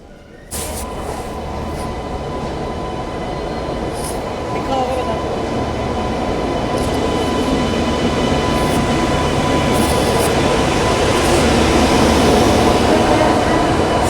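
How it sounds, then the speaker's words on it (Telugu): The Hazrat Nizamuddin–Tirupati Sampark Kranti express rolls loudly alongside a platform, a sustained heavy rumble of wagons and wheels that builds slightly over time, with faint clicks and squeals on top. "సో ట్రైన్ అయితే ఇప్పుడే తీసుకొచ్చి పెడుతుండు"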